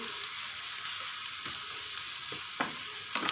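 Ginger garlic paste fries with browned onions in a pan, a soft steady sizzle close by with a few sharp stirring scrapes and taps toward the end, no voices.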